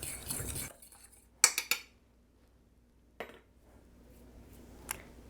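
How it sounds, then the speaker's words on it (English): A spoon or utensil stirs cinnamon into sliced apples in a bowl for a caramel apple crunch pie, giving a brief scrape and then a few sharp metallic clinks against the dish, spaced apart in a quiet kitchen. "2 teaspoons of cinnamon. Maybe a little more. And mix this up."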